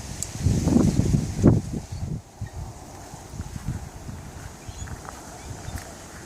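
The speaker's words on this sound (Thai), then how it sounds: "ลมแรงนะเนี่ยวันเนี้ย" Strong gusts of wind blow outdoors in an orchard of grapevines and plum trees, a steady broadband rush that swells in bursts near the start and keeps buffeting the microphone while someone talks over it.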